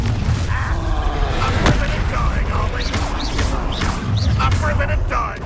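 Fire spell blasts and booming explosions in Hogwarts Legacy combat at an encampment, loud repeated booms under shouted voices and battle noise.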